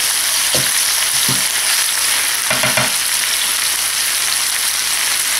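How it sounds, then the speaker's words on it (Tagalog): Chicken sautéing in oil in a pan for Filipino tinola, a bright constant sizzle with a few short stirring scrapes and clatters partway through. "Ayan, gisang-gisa na yung ating chicken."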